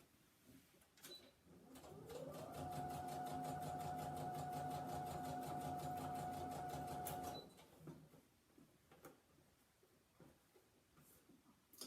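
A sewing machine stitches over the top of a fabric Christmas wreath in one steady, close, continuous run of about five seconds, starting and stopping cleanly, with faint handling noise before and after.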